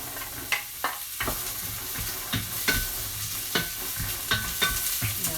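Diced pumpkin frying in olive oil in a pan, a continuous close sizzle broken by regular scraping stirs about once a second, with no voices.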